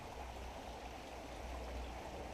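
Steady rush of flowing creek water at Mill Creek, a constant broadband wash that stays even and close throughout, with no voices.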